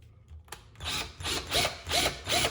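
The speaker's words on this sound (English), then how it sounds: "now I'm gonna go a little way away from the wall and drill it in." A power drill whirs in several short bursts, about four or five pulses of grinding into a wall after a single tap, close and fairly loud.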